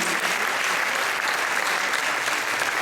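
A prize-distribution audience claps loudly and continuously for a winner, dense even applause filling the hall, with no speech over it.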